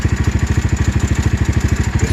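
A Venom X22R 250 motorcycle engine chugs with a fast, even pulse, loud and close, its single-cylinder beat thumping steadily through the whole moment while the throttle is worked.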